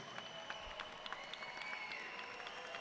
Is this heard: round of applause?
yes